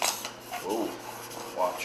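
A blade is rubbed back and forth across a whetstone, wider than the stone, giving rhythmic gritty rasping strokes up close while a person briefly speaks.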